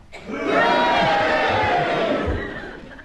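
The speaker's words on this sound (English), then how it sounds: "will you cheer if you agree with Clement Freud, and if not, will you boo and do it now" Studio audience at a comedy panel game cheering and booing together, a broad sustained crowd roar with mixed shouts that swells quickly, holds steady for about two seconds, then fades.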